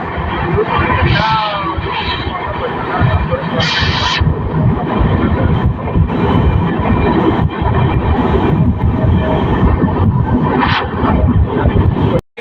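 Passenger train NB 20604, bound from Nagercoil Junction toward Madurai and New Jalpaiguri, rumbles along at speed, a continuous loud rolling roar with periodic rattles and clanks, while someone talks over it throughout.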